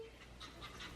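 A puppy pants in quick, soft breaths close by, a steady run of short airy puffs over low background noise.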